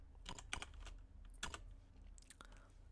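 Typing on a computer keyboard while entering an Atari 6502 assembly program: a few quick clusters of key clicks, close and fairly quiet, with pauses between bursts and no talk.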